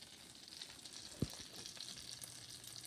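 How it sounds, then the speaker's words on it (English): Short ribs fry in hot melted butter in a pan with a faint, even sizzle, and one soft thud of the meat or a utensil partway through. No voices. "I'm going to pan fry these. My butter is hot."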